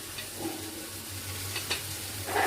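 Greens and mung dal hit a hot pan with a soft, steady sizzle, faint and close, with occasional light scrapes and clinks of stirring and no talking.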